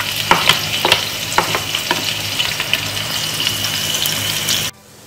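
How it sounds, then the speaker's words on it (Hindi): Finely chopped onions sizzle loudly in hot oil in a pan for mutton yakhni pulao, with steady crackling broken by scraping stir strokes, then cut off abruptly near the end. "सबसे पहले हमने पैन में डाले हैं प्याज, बारीक कटे हुए प्याज, जिनको हम करेंगे फ्राई"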